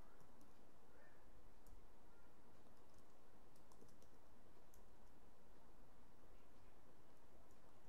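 Someone types on a computer keyboard while writing a first Java program, producing faint, scattered key clicks over a steady background hiss with no talking.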